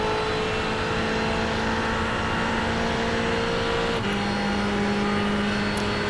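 A Ferrari 488 GT3 race car runs at Le Mans, a loud, sustained engine tone heard from the cockpit that holds steady and then drops pitch with an upshift partway through.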